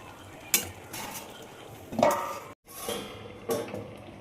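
A spoon scraping and clattering against a pan as prawns and taro are stirred, with a soft sizzle under it and a few louder metallic knocks spaced across the stretch.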